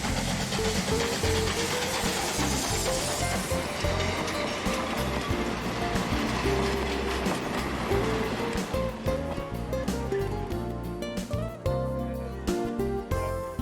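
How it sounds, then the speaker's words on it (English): A W-class steam locomotive hauling a special train to a British car day in Western Australia, with dense, loud hissing steam and rumbling rail noise, rhythmic chuffing blending into a continuous roar. "The W-class steam locomotive was one of the last steam locomotives used on Western Australian main lines."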